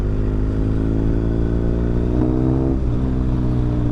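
A BMW R1250GS adventure motorcycle on Michelin Road 6 tyres drones loudly while being ridden, its exhaust holding a steady, throaty tone with a brief pitch dip as the throttle shifts partway through.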